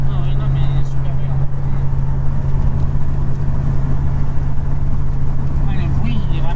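A 1978 Chevrolet Corvette C3 Stingray engine idles with a deep, steady low rumble throughout, while people talk over it.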